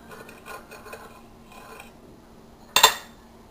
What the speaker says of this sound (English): the final step in this, is carefully cutting the sandwich